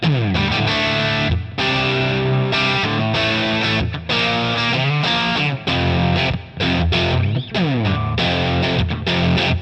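A Strat electric guitar played through a new amp with heavy distortion rings out in sustained chords and bending notes, loud and close, with brief gaps between phrases.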